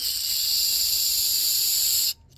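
Aerosol cleaner sprays in one continuous loud hiss into the carburetor orifices of a Kohler 6.5 hp engine on a Country Tuff wood splitter, then cuts off abruptly.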